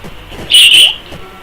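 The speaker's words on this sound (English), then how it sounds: "That was our bird. We have a bird as well." A pet bird gives a single short, shrill whistling call in the background, loud and piercing for a split second over a low murmur of room noise.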